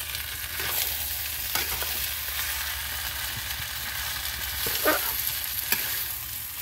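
Rice for a Himachali dham sizzles steadily as it fries in a pan, with a spoon scraping and stirring through it at irregular intervals close by.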